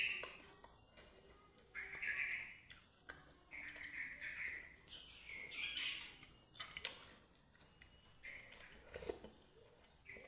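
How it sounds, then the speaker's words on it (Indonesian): Birds chirp and call in scattered bursts throughout, fairly faint and distant, with brief tweets rising over a quiet outdoor background. "Seperti biasa kicauan burung."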